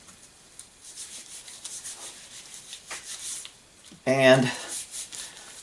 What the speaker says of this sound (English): But for right now, I'm going to wax it.